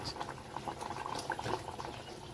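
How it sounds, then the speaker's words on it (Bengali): Fish curry bubbles in a pot on the stove, a faint, soft simmer of small pops and gurgles that goes on unbroken. "এবার একটু ফুটুক নাহলে ভেতরে জল জল ঢুকবে না"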